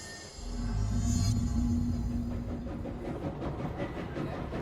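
A train in the video game Control rolls along the rails with a deep steady rumble and faint rhythmic clatter, starting abruptly and continuing without speech.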